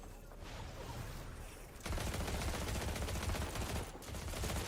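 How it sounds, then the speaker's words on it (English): Rapid gunfire from a fast-shooting Lancehead pistol in a competitive esports video game match, a dense continuous burst of shots that grows louder partway through, with a brief dip before resuming. "it does actually shoot so fast"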